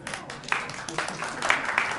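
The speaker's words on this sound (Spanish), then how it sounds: "un aplauso para él que está" An audience at a seminar on work-life conciliation law applauds, a brief burst of scattered clapping with several sharper peaks, fairly quiet and somewhat distant.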